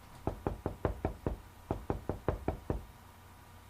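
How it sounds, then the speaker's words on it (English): Series of solid knocks on a wooden door in the video game Mudlarks, two clusters of about five raps each with a short pause between, close and clear with no talking. "That sounds like the same knock."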